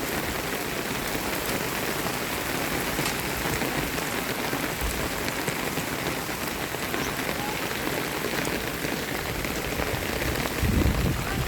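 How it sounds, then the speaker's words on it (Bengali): Heavy rain pours down steadily, a dense continuous hiss of drops hitting surfaces, loud and close, with no voices. "বিরাট ধরনের বৃষ্টি হচ্ছে"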